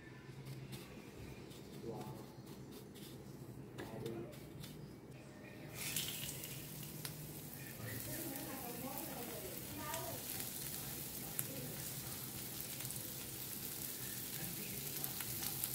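Mackerel fish frying in a pan with little oil gives a soft, close sizzle that grows louder partway through, with faint background noise and no clear talk.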